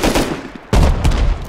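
Video game Rust gunfire: a loud, rapid string of close shots, dense and continuous across the short clip with a brief dip before a heavier burst.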